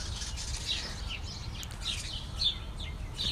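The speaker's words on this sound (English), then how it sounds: "There's some birds having a fight in a tree." Birds squabble in a tree, giving short high chirps and scattered squeaks over a steady outdoor rumble, moderately close.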